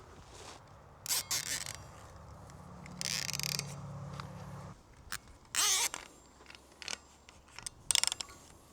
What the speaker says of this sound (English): I just got to zip tie them to the forks here so they don't fall off.